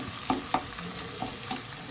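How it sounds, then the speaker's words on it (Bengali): Onions for chicken keema tadka fry in a pan, a soft steady sizzle broken by a few sharp clicks of a spoon stirring, close and quiet. "পেঁয়াজটা ভাজা পর্যন্ত আমি অপেক্ষা করব, একটু ভাজা হোক।"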